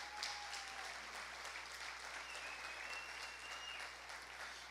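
Church congregation at a family service applauding, a steady wash of many hands clapping together, fairly faint and distant in the room, continuous without pause and with no voices on top.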